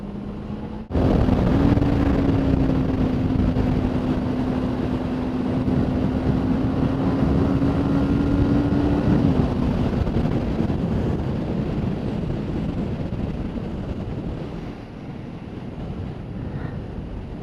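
Motorbike ride with a steady engine drone and heavy wind rush buffeting the microphone. A constant tone holds for several seconds, then fades as the roar continues unbroken to the end.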